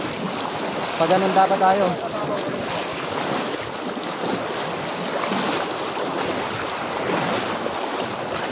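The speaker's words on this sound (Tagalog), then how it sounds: "sobrang lakas ng agos" A strong river current rushes steadily through a forest, a dense broadband roar with wind buffeting the microphone, while a voice speaks briefly over the constant flow.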